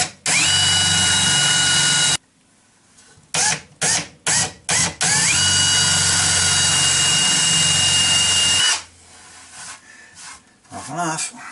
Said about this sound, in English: I'm just planning on drilling a couple of holes